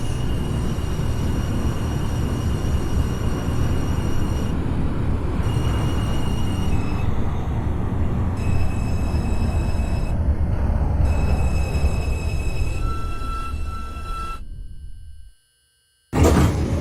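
NYC Subway R142 train on the 2 line to Flatbush Avenue, simulated in OpenBVE in snowy conditions: a steady loud rolling roar with whining motor tones that shift pitch, running continuously before cutting out briefly near the end.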